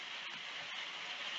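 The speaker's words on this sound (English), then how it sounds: "We're having a bit of a torrential downpour outside." Torrential rain pours steadily outdoors, a dense continuous hiss heard from indoors at a fairly faint level, with no voices over it.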